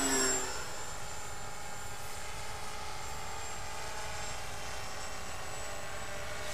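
An RC MiG model jet flies at about half throttle, giving a steady, even, distant whine that holds at constant loudness throughout with no talking.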